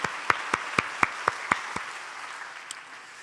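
A church congregation claps: a short run of about eight sharp, evenly spaced claps in a quick steady rhythm, then quiet room tone with no speech.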